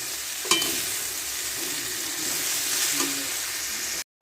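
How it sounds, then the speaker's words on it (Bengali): Potatoes with salt and turmeric fry and get stirred in a pan: a steady hiss of sizzling oil runs throughout, with a sharp utensil knock near the start and soft stirring scrapes. "ভালো করে ভেজে নেব"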